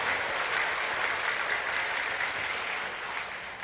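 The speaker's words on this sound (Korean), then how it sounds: "우리 모두가 다 박수 한번 해요" A church congregation applauds during a Sunday sermon, a dense, steady burst of clapping that fills the room and fades slightly at the end.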